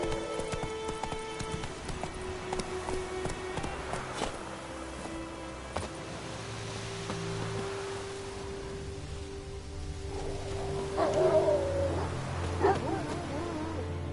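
A horse galloping in the video game The Witcher 3, its soft, continuous hoofbeats running under game music, with a slightly louder stretch near the end.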